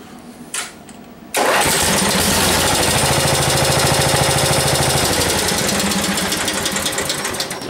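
A 1975 Gilson engine with a repaired starter cranks and catches after a brief pause, then runs loud and steady with a rapid mechanical chatter for several seconds.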